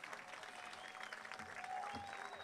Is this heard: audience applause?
yes